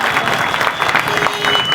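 A crowd at an ashram wedding celebration for Thakorji applauds loudly and continuously, dense clapping filling the short moment without pause.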